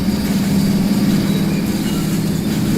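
A CSX train in the Rolling Line model-railway game runs with a steady low engine drone and a faint rhythmic rolling hum, constant and fairly loud throughout.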